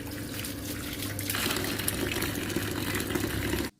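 Running water pours into a vessel while mustard greens for sarson ka saag are rinsed, a steady close splashing flow that grows fuller partway through and then stops abruptly.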